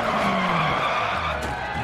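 Lancia Fulvia HF sliding on a rally stage in Dirt Rally, a steady loud tyre skid with engine drone running throughout, the pitch easing slightly as the slide carries on.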